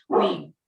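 A single close dog bark, loud and short with a slight whimpering tail, standing alone with no talk around it.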